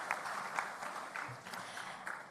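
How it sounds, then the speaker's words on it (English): Crowd applause opening a school rugby awards ceremony, a moderate, even spread of clapping with a few sharper claps standing out, heard at a distance and fairly quiet. "Come on, everyone, a big round of applause."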